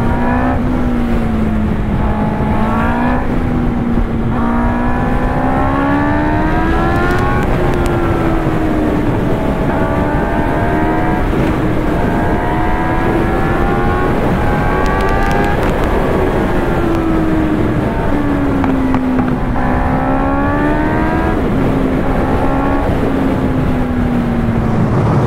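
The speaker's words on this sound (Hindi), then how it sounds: "ट्रैफिक तो है यार, मुझे लग रहा है कि कुछ ज़्यादा ट्रैफिक हुआ" Street traffic on the way to Karol Bagh is dominated by a loud, close engine drone that rises and falls in pitch as the vehicle accelerates and slows, steady throughout with no talking.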